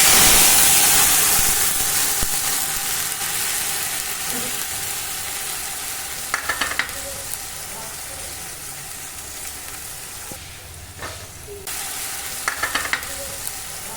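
Cumin, bay leaf and a ground spice paste fry in hot oil with a loud hiss at first that fades into a gentler sizzle, with a few spoon scrapes against the pan.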